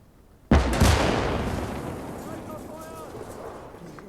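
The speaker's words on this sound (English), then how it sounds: "Sounds like my Marder's engaging." A Marder tank destroyer fires in the World War II strategy game Gates of Hell: Downfall, a single loud, sudden cannon blast followed by a long rumbling decay over about three and a half seconds.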